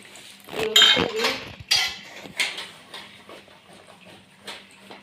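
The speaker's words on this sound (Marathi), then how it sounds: "चला भांडी घासून घेते मी आता" Dishes, pots and pans being scrubbed and washed by hand at home, with sharp clinks and metallic clatters of utensils in uneven bursts, loudest early then easing into lighter scraping and knocks, with no talk over it.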